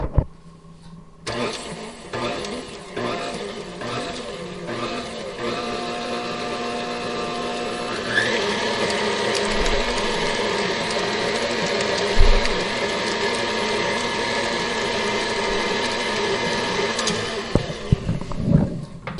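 A stand mixer churns strawberry dog treat batter in a raised bowl, starting up with a few slow turns and settling into a steady, close mechanical whir with occasional bumps.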